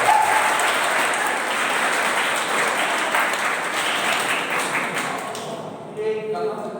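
Audience applause at an engineering quiz event, a steady dense wash of clapping held for several seconds before thinning out near the end.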